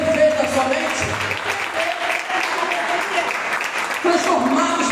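A church congregation applauds steadily throughout during a sermon, with a dense wash of clapping joined by music or voices underneath at moments.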